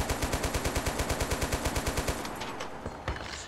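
Machine gun fire in Total Conflict Resistance rattles in a rapid, evenly spaced stream of loud shots for about two seconds, then trails into scattered distant gunfire.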